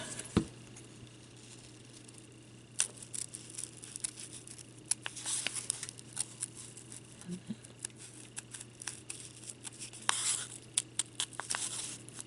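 Scissors snip around felt pieces for a handmade flower birthday tag, giving soft, irregular cutting clicks and rustles that are close and quiet, with no talking.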